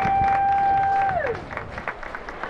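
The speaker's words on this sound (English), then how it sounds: "let's give Johnny a round of applause" A parade crowd claps for a teamster driving horses, a short burst of scattered applause mixed with a fading whistle-like tone that quickly thins to a few claps.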